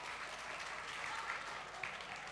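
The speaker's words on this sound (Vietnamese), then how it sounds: "tiếng vỗ tay để nói lên tất cả" An audience at a live comedy show claps in a sustained burst of applause, even and fairly distant, rolling on for a couple of seconds.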